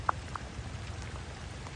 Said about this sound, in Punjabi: ਮੀਂਹ ਨਹੀਂ ਹਟਦਾ ਪਿਆ